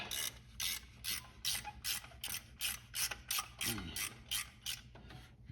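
A ratchet wrench loosening a bolt during cooling system maintenance on a 1969 Buick Skylark, a rapid run of about a dozen evenly spaced clicking strokes, close and clear.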